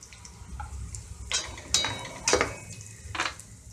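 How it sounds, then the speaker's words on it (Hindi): Cumin seeds and asafoetida sizzle in hot oil in a pan, a soft, close crackle with a few brighter bursts as the spices hit the oil, no talking. "तेल हमारा गरम हो गया है इसमें अभी हम जीरा डालेंगे जीरा लाल हो रहा है अभी उसमें हम ज़रा सी हींग डालेंगे"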